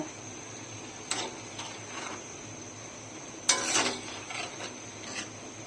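Boiled, peeled potatoes are stirred and fried with winter vegetables such as cauliflower in a pan: a few faint, scattered scrapes, the two clearest a couple of seconds apart, over a quiet sizzling background.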